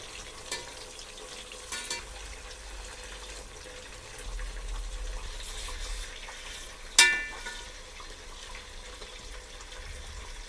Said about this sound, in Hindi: फिश इस तरह हल्के हाथ से पलटते हुए फ्राई कर लेंगे।